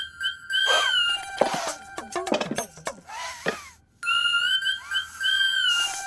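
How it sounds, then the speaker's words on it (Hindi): A pressure cooker whistle in a home kitchen: loud, steady, high tonal whistling that rises and falls in several bursts, with brief clattering noises in between. "ये तो कुकर की सीटी है।"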